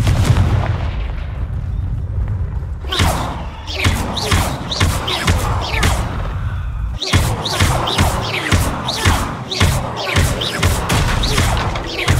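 Confringo fire-blast spells in the Hogwarts Legacy video game, a rapid series of loud, sharp explosive bursts repeating in quick succession with booming impacts, continuing densely over game audio.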